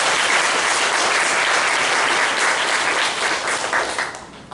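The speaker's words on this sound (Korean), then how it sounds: "다시 한번 뜨거운 박수 부탁드리겠습니다" A church congregation gathered for an anniversary worship service breaks into warm, sustained applause that fills the hall, holding steady before tapering off toward the end.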